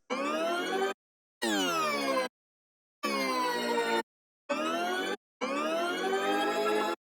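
A short sample repeats in bursts with its pitch automated to sweep steadily upward an octave, five loud chunks separated by brief silences, synthetic and siren-like, in a hip-hop beat made in FL Studio.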